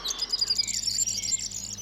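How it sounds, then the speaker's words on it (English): Wild birds sing on the Rügen coast, bright high chirps and trills repeating in quick succession over a faint low background hum. "to be able to hear these birds singing"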